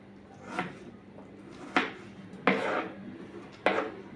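A knife chops onions on a board for fried onions in a chicken dum biryani, with four sparse, close, fairly quiet thuds spaced apart against a soft kitchen background.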